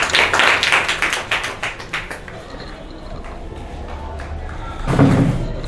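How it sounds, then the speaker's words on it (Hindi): An audience in a government school classroom claps in a quick burst of brisk claps that fades out, followed by a brief thump and faint background voices. "इनके लिए भी तालियां बजाइए"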